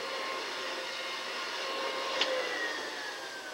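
A household vacuum cleaner runs steadily indoors, a continuous broadband whine with a faint tonal hum and one brief click partway through, fairly close and without talk.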